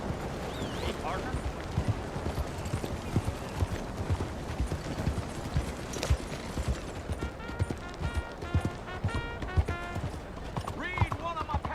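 Horse hooves galloping in Red Dead Redemption 2, a steady rapid clatter of hoofbeats running throughout under a voice and game ambience, with brief sharp pops in the background.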